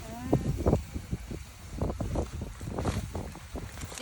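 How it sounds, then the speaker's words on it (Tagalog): Strong wind gusts buffet outdoors on Lubang, Mindoro, with low rumbling bursts of wind noise rising and falling throughout while people talk nearby. "Lakas ng hangin kasi."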